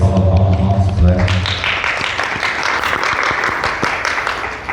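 An audience at a tabletop role-playing game event breaks into applause after a voice; dense clapping swells and continues steadily to the end.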